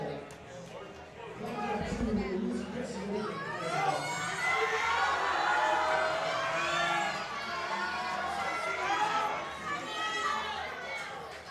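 Crowd at a high school powerlifting nationals meet cheering and shouting for a lifter, a loud sustained roar of many voices that swells and holds for several seconds.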